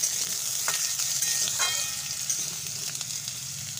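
Potatoes frying in hot oil in a pan, a steady loud sizzle with occasional scraping stirs, no voices.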